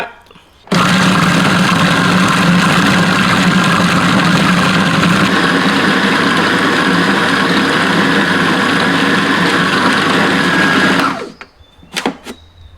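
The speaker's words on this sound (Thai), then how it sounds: "เนื้อหั่นเสร็จแล้วก็จะมาใส่เครื่องปั่นนะครับ เครื่องปั่นเนื้อ" An electric meat grinder blending sliced beef whirs at a steady, loud drone for about ten seconds, then cuts off, followed by a couple of clicks.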